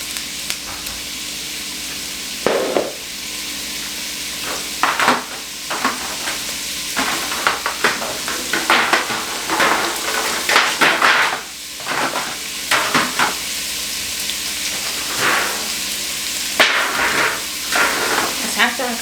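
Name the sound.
frying carrots in a pan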